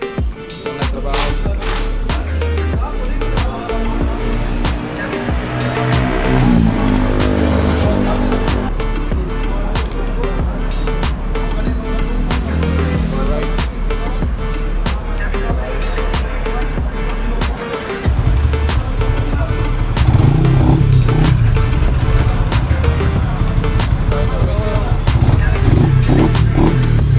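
A Yamaha Sniper 150 motorcycle idles and runs up close with a loud, steady, rattly engine note and a burst of revving partway through, the throb deepening toward the end.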